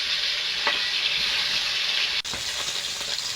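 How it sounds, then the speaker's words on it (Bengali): Tilapia fish fry in hot oil with a loud, constant, close sizzle, marked by occasional faint ticks and a momentary dip partway through; no voices. "বাকি মাছগুলো ভেজে নেব।"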